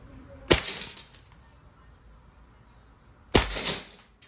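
A KWC P08 Luger CO2 airgun pistol fires 4.5mm steel balls, two sharp cracking shots a few seconds apart, each followed by a brief clatter in a quiet setting.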